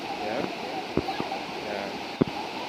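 A continuous hiss of falling water comes from the Chania waterfall beside the Blue Post Hotel in Thika, Kenya. A few short voice bursts and thumps sit over the steady roar.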